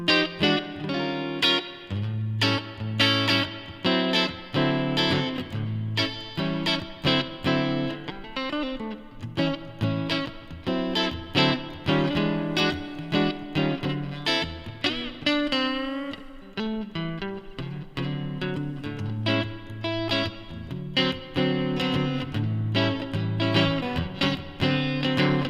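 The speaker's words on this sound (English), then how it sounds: "So let's start with the spring reverb." Electric guitar run through a spring reverb effect on a Line 6 Helix, playing picked chords and single notes with a splashy, lingering reverb tail, steady and close with no voices.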